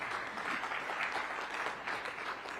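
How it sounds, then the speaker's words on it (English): Audience clapping at the 2023 Indian Family Business Awards ceremony, a continuous, moderately loud roll of many hands applauding together in a large room, steady throughout. "a huge round of applause for the Dabur family"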